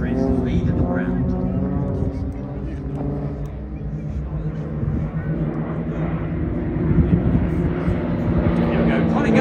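A Global Stars aerobatic display plane flies a wingover at an air show, giving a sustained droning engine hum that swells slightly toward the end, with a commentator talking over it.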